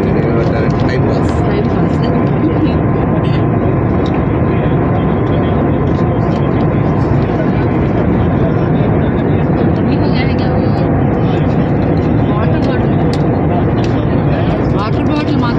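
Steady, loud airplane cabin roar fills a flight from Hyderabad to Goa, an unbroken engine drone throughout with faint voices at times.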